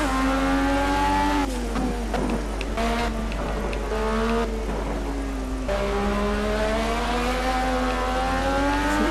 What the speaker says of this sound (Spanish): Que el coche me está derrapando un montonazo